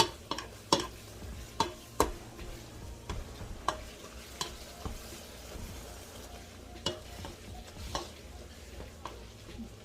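Philly cheesesteak filling cooks in a pan, giving a soft, steady sizzle with frequent clacks and scrapes of a utensil stirring against the pan.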